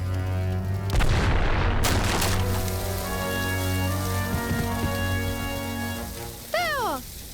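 Heavy cannon blasts boom close by near the start, then a rumbling, rain-like wash continues under sustained tonal music.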